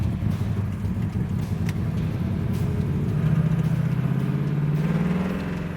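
A freshly restored classic car pulls away, its engine a low, steady rumble that rises in pitch as it accelerates, heard close and fairly loud with no talking.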